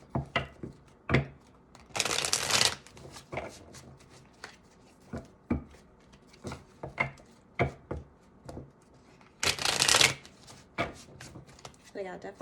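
A Witch's Tarot deck is shuffled, with two long riffling bursts and many short card taps and slaps, heard close up beneath a quiet voice that talks throughout.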